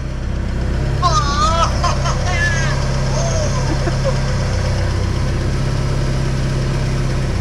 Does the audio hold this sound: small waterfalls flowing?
no